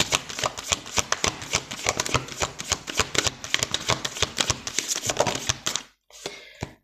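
Cards being shuffled for a tarot-style reading: a long, rapid run of crisp riffling clicks and flutters, close and fairly loud, ending in a brief pause and a softer final shuffle.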